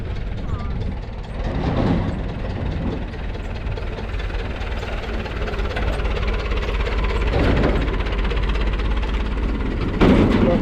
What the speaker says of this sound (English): Tractor, guys.